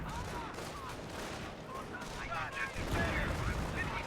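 Battle gunfire from the video game Company of Heroes, with steady volleys of rifle and machine-gun shots and explosions blending into a dense, continuous din, while a commentator talks over the action throughout.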